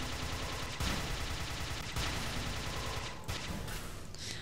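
Rapid SMG gunfire from the Tribes Ascend video game, a dense, steady stream of shots that fills the whole stretch at close, loud level, with brief breaks in the burst.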